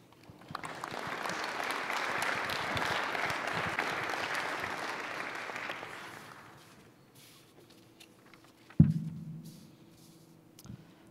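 Applause from an induction ceremony audience fills the room for several seconds, steady and broad, then tapers off into quiet, followed by a sharp thump near the podium.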